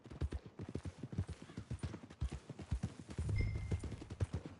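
Horse hooves clip-clop in a steady, fairly close rhythm in Red Dead Redemption 2, with a short whinny-like tone partway through, heard alone without talk.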